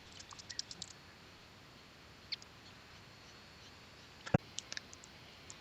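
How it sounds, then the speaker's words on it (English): A password typed on a computer keyboard comes through as faint, sparse key clicks in short bursts, with one sharper tap near the end, in a quiet room. "To do this, we need to type the password."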